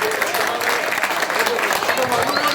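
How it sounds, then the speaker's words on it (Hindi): Audience applause at a political community meeting in a Delhi colony, a dense sustained clapping from a crowd with voices mixed in underneath. "एक बार जोरदार तालियों से"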